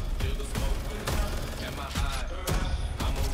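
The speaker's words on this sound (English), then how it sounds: "Shotgun." Shotgun fire in Modern Warfare 3 multiplayer gameplay: repeated loud blasts and gunfire bursts packed into a few seconds, dense and close, layered with game music and effects.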